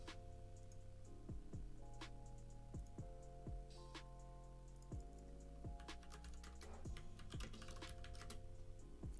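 A computer keyboard being typed on at close range, quick uneven clicks and taps of a password being entered, with a faint tone ringing behind them and no speech.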